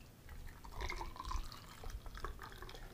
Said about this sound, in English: pour it into your highball.